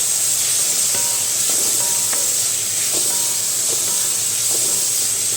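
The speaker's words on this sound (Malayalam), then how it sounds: "ഇനി നമുക്കിതിലേക്ക് പൈനാപ്പിൾ ഇട്ടൊന്ന് വഴറ്റിയെടുക്കാം" Pineapple pieces sautéing in sesame oil for a sweet, sour and spicy pickle give a steady, loud hiss with a few faint ticks and pops scattered through it.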